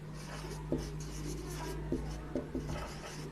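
A pen writing out a mathematics definition by hand on paper, soft continuous scratching strokes with a few light taps, close and quiet over a faint hum.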